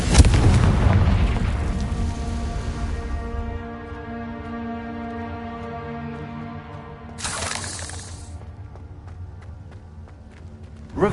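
A Confringo fire spell detonates in Hogwarts Legacy on PS5 with a loud, deep boom that rumbles and fades over several seconds, followed by a second sharp burst and lingering game tones.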